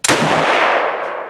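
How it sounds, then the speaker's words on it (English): A Lee Enfield No.1 Mk III rifle, a World War II service rifle firing old ammunition, lets off a single sharp, close, loud shot that rings out and decays slowly with no voices. "First shots with the Enfield, Chuck's last rifle in this World War II collection"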